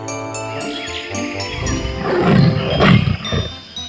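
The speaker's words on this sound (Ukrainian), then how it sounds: "Це ось тигр, найбільша кішка на землі." A deep tiger roar swells and rumbles loudly over a background of bright chiming music, peaking in the middle before fading.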